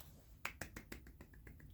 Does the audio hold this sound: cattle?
no